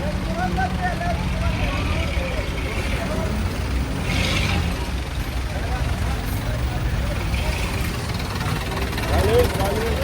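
Vehicle engines idle and rumble in a dense traffic jam on a Bangladeshi road crowded with trucks carrying sacrificial cattle, a continuous low drone close by with voices talking over it.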